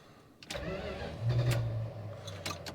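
An old car engine cranks and catches, then revs briefly and settles toward a rough idle, with a couple of sharp clicks or knocks, fairly close and quiet with no talking.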